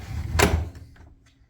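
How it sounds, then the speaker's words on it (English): A secret rotating wooden bookshelf door unlatches with a single sharp knock, then swings open with faint, light creaks that fade away. "By pulling the Deceptions book and a slight press on the bookshelf, it rotates quite freely, almost no friction at all."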